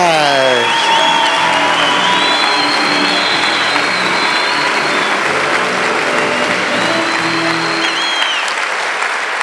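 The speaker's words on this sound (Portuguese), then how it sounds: "recebam com um forte aplauso" Sustained loud applause from a large comedy show audience, with scattered whoops and cheers mixed into the steady clapping throughout.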